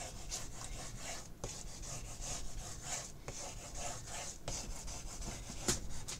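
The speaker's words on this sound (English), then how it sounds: "And then I'm just going to burnish that in place." A mini album's tape being burnished into place, heard as steady rhythmic rubbing and scraping strokes close by, with no talking.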